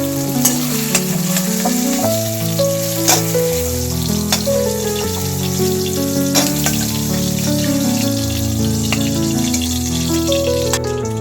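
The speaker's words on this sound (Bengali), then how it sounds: "সয়াবিনগুলো ভেজে উঠিয়ে নিলাম।" Soybean chunks frying in oil in a wok for soya Manchurian, a steady close sizzle with stirring scrapes and clinks over a running tap and background music.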